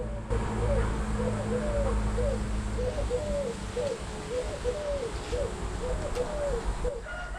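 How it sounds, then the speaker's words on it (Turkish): Doves coo over and over from tall trees in a steady, rhythmic pattern, fairly clear above a constant low rumble of background noise. "çok kumru var arkadaşlar buralarda."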